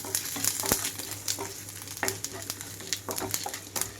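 Oil tempering with asafoetida sputters and sizzles in a pan for mint chutney, a steady crackling fry with scattered sharp pops and a low background hum, close and moderately loud.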